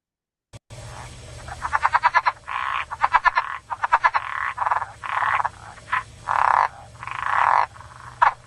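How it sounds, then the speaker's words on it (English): Southern leopard frog, a true frog of larger wetlands and ponds, calling alone and close: rapid rattling pulse trains alternate with a series of guttural clucking croaks over about eight seconds. "southern leopard frogs, which are a true frog, and I can't think of a good way to describe their call"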